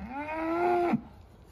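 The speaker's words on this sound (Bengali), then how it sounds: "রাত্রিবেলায় গরুটা এরকম করতেছে কেন দেখেন" A single cow on a farm moos once at night, a close, loud, drawn-out call lasting about a second before falling off into quiet.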